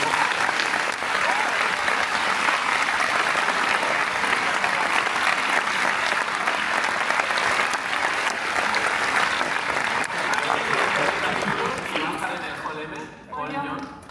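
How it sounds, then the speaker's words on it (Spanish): Sustained audience applause fills a Comic Con Málaga panel room, dense and steady for most of the stretch before tapering off near the end, with talk mixed in underneath. "un aplauso por favor para"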